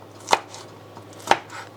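Two sharp knife chops on a cutting board, about a second apart, while ingredients for Thai fish cakes (thot man pla) are cut for the patties; clear and close, with no talking.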